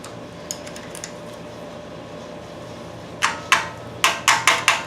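A wrench tightens bolts on a 4.8 LS engine during a rebuild, with a few faint clicks early on and then a rapid run of sharp ratcheting clicks close by near the end.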